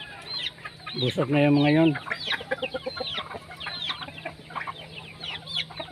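Free-range native chickens cluck and call near a covered roost, with one loud drawn-out squawk standing out among busy, overlapping clucking, and a person speaks briefly over them.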